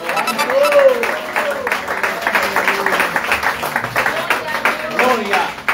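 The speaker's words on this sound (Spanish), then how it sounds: "Denle un aplauso fuerte al Señor" A church congregation at a welcome service in Puerto Rico breaks into rhythmic clapping for the Lord, a dense wash of applause under loud overlapping voices and shouting.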